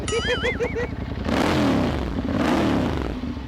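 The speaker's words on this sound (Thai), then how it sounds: "ท่อแต่งเหมือนกัน ของอิตาลีเลยแล้วเดี๋ยวมาฟังเสียง" A 2013 Ducati Monster 795 ABS fitted with an Italian aftermarket exhaust revs hard, rising into a loud, rasping engine roar that swells and holds after a brief lead-in of other sounds.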